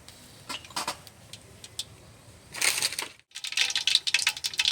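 Mustard seeds dropped into hot sesame oil for a fish curry cooked over a wood-fired stove outdoors, giving bursts of crackling, spitting sizzle that grow louder and denser after a short pause, with no talking.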